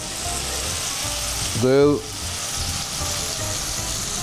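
Food sizzles and fries steadily in a pan during sauce preparation for Nigerian jollof with beef, with a brief clatter of stirring or a utensil midway and a bit of quiet talk over the constant hiss.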